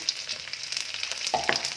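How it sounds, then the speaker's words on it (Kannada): Mustard seeds, dried red chillies and urad dal tempering in hot oil, a brief bright sizzle with sharp crackling pops and a faint stirring clink. "ಒಗ್ಗರಣೆಗೆ ಸಾಸಿವೆ ಒಣಮೆಣಸು ಮೆಣಸು ಉದ್ದಿನಬೇಳೆ ಏನು ಹಾಕಿ"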